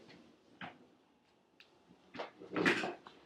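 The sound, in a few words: chair being moved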